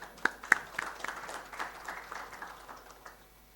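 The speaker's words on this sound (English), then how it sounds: "A big round of applause for him." Light, scattered applause at an engineers' award ceremony. A few sharp individual claps stand out early, then the clapping thins into soft, sparse patter that fades within a few seconds.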